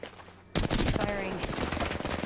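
Rapid gunfire bursts from a weapon in the video game Apex Legends start abruptly and continue as dense, close, crackling shots throughout.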